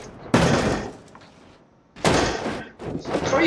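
A car crash in the driving game BeamNG.Drive, two sharp heavy impacts with crunching bursts about a second and a half apart, followed by a shorter thump, loud and close.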